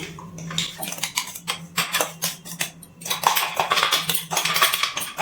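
Gobindobhog rice flour is tipped into a pot over a low gas flame and mixed for a danadar sweet, producing quick, close scraping and clinking strokes of a spoon against the metal pot, irregular and busy, without voices.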